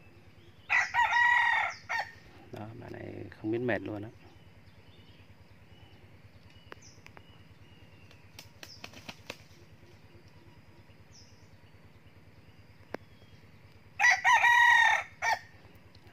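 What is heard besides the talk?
young rooster crowing and flapping wings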